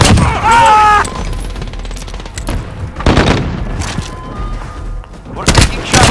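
Gunfire in a Call of Duty Modern Warfare firefight: sharp repeated shots and thumping bursts scattered throughout, loud and close, with a voice calling out near the start.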